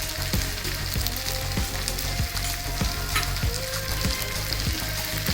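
Eggplant frying in a pan with salt and red chilies, a steady loud sizzle throughout with faint repeated stirring scrapes, no voices.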